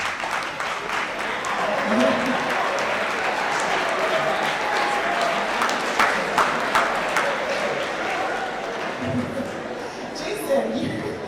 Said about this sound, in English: Jason, you continue to get a lot of applause.